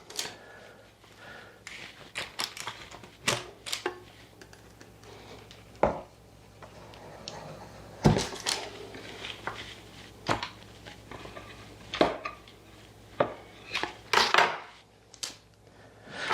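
A knife cuts through a bar of homemade Jersey milk soap, giving repeated close, soft thuds and scraping taps spread irregularly across the clip.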